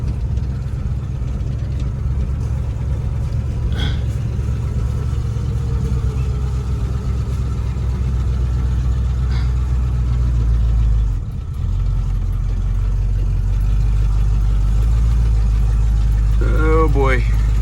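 A 1969 Buick Skylark's engine droning with a heavy low rumble while the car is driven, loud and continuous throughout, with a brief dip near the middle and a few faint squeaks toward the end.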